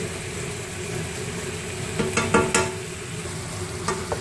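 Meat browning in a pan for homemade Chinese fried rice, a continuous close sizzle with a few sharper crackles and scrapes in the middle.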